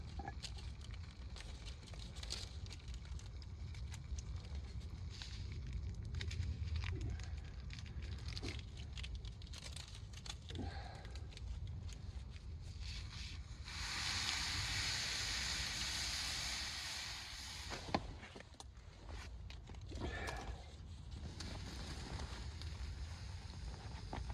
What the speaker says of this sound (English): I've got water boiling for the first time